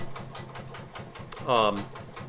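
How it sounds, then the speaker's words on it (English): A Japanese all-metal Morse sewing machine stitches a tight zigzag, a quick mechanical whirring and clatter that surges briefly louder, with someone speaking over it. "it can sew a nice tight zigzag if you should have need for one"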